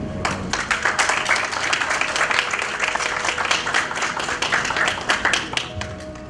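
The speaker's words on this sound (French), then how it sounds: "si ça ne vous ennuie pas, l'applaudir, Éric Leroux" An audience applauding steadily at an event, a full, even wash of clapping with individual sharp claps standing out, continuing without a break throughout.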